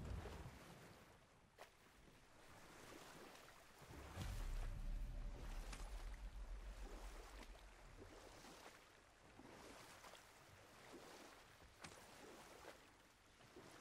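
Boat gliding across water in the God of War video game, a soft continuous wash of water and wind with a low rumble that builds partway through, faint throughout with no talk.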